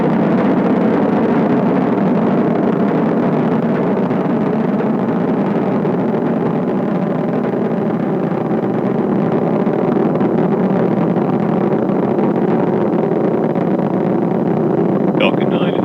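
The SpaceX Falcon 9 engines on the Crew-7 launch roar as the rocket climbs through ascent, a loud, steady broadband rumble that never lets up, with voices faintly underneath.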